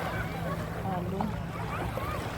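Gentle sea waves lap at low tide on the Fahaheel shore in Kuwait, a soft continuous wash under wind buffeting the microphone, with a person talking over it.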